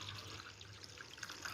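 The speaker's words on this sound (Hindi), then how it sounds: "जैसे अभी ये हमने इसमें पानी डाल दिया" Water poured into a bucket holding six to eight banana peels, a faint, close trickling and splashing with small irregular bursts and no speech.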